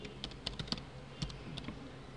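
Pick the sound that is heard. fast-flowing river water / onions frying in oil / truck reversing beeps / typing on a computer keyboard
typing on a computer keyboard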